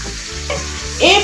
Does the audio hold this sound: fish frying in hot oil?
yes